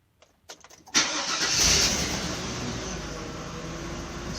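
A Chevy Avalanche 2500 with a fuel problem cranks briefly with a few clicks, then its engine catches and settles into a loud, steady running roar close by.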